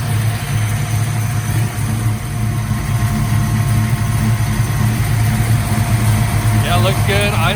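A Chevrolet Camaro's engine idles steadily at close range, a loud, even low rumble that holds throughout, with a brief voice near the end.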